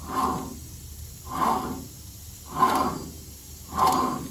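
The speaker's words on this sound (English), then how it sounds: "to confirm you have a bad wheel bearing, you'll be listening for this." Four evenly spaced whooshing, grinding swells rise and fade in a slow rhythm as a Toyota FJ Cruiser wheel with a bad bearing spins, rough and rumbling.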